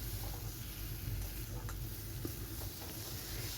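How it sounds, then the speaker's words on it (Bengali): Fried eggplant pieces and moong dal being stir-fried in a pan, a continuous low sizzle with scraping stirs and faint clinks close by, no talking. "দিয়ে দেওয়ার পর আরও 1 মিনিটের মতো এটাকে আরও কষিয়ে নিলাম।"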